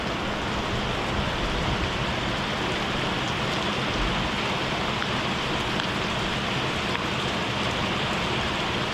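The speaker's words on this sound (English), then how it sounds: "Heavy rain." Heavy rain pours steadily, a dense, loud and continuous wash of rainfall that holds even throughout, with no voices over it.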